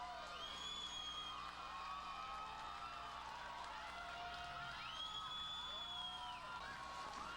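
A big crowd at a New Trier high school game cheers and whoops after a goal, with steady sustained roar and rising shouts, some whistle-like tones over the din, moderately distant.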